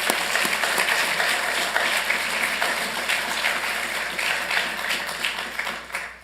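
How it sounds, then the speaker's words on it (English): Sustained applause from a crowd, dense clapping filling the whole stretch at a steady loud level, tapering slightly at the very end. "Let's please give him a big round of applause."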